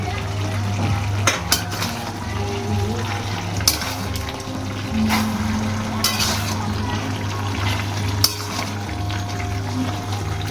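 Masala stirred in a pan with oil for a Bengali dhania chicken curry, giving a steady low sizzle under soft scraping and clinks of a spoon against the pan, with a constant hum behind it.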